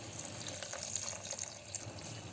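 Water runs steadily into a pot for Korean tofu stew (sundubu jjigae) with gochujang, kimchi and vegetable stock, a continuous close pouring rush with no talking.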